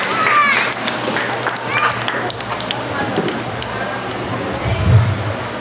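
A school audience claps for a grade 8 junior high student at a Halloween-themed literature event; the applause is steady and mid-level throughout, with voices mixed in.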